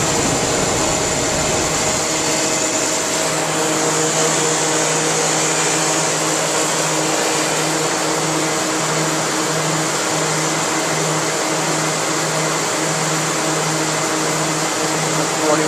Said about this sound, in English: One of the two fans just kicked in. Both fans are kicked in now.